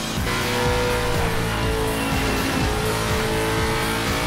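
GT race cars in the Assetto Corsa racing game rev hard and continuously, with a loud, sustained engine roar and repeated rising pitch sweeps as gears cycle, mixed with hints of tire squeal.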